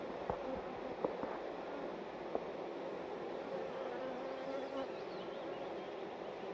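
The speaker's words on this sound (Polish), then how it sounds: "Pszczoły zaskakują." Honeybees buzz at an open hive while a queen is being introduced, a dense steady drone close by with a few faint clicks and no talking.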